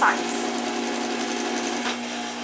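A sewing machine stitches a trouser fly with a steady mechanical whir, close and fairly loud, running continuously with a brief dip near the end and faint background sounds.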